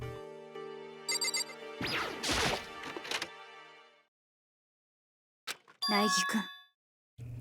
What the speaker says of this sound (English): a sharp sound of the doorbell pierced my sleepy haze and pulled me back to the real world